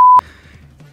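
A loud steady censor bleep tone covering a swear word, lasting about a fifth of a second before cutting off, followed by faint low background sound.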